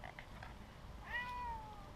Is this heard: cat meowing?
yes